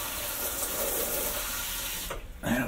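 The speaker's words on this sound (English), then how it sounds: "It's filled up the jolly old water tank." Water runs steadily from a tap into the empty water tank of a breakfast machine, a continuous splashing hiss that cuts off briefly near the end before resuming.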